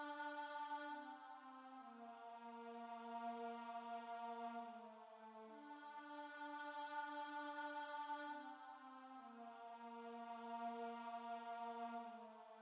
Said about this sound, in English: I'm using the Angelic pad, which sounds also like a choir, and it sounds like this.